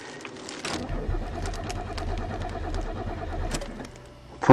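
A 1990 Chevrolet Celebrity engine cranking on a cold start in deep winter snow: a steady, rhythmic starter whir that keeps turning over for several seconds without catching, heard close and alone.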